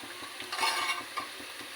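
Bitter gourd pieces fry with onions in a pan. A close, steady sizzle is broken by soft stirring scrapes and a low rhythmic pulse underneath.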